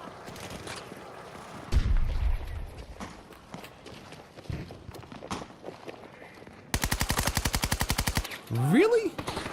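Suppressed automatic gunfire in a video game: a rapid, evenly spaced burst of muffled shots near the end, with scattered in-game footsteps and thuds before it.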